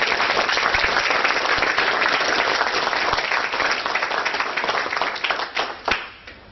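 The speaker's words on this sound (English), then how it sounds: "So please give a big round of applause." A live audience gives a sustained round of applause after a talk on Ireland and economic collapse, dense steady clapping filling the room before tapering off near the end.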